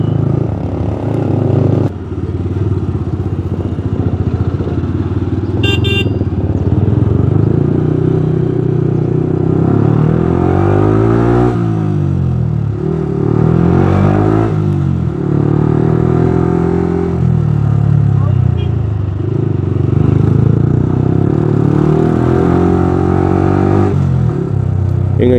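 Heavy motorcycle and car traffic on the road into Kodaikanal, heard from a bike: a constant low engine rumble with repeated rising and falling revs from nearby vehicles, close and continuous throughout.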